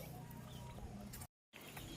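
A fighting-cock cross chicken clucks softly among farmyard noise, low and faint, with a short silent gap midway.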